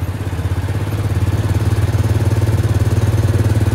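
A Case 2470 tractor engine running under load in a faster gear after a fuel line replacement, a loud, steady low chug with a rapid regular pulse and clattering mechanical texture, heard alone.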